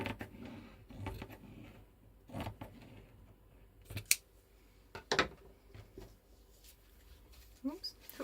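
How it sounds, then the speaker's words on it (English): Scissors snip through a piece of fabric in a few short, quiet cuts, close to the microphone, while someone talks over the faint crunching sound. "let's just cut a piece from here, because I would like some lace on here"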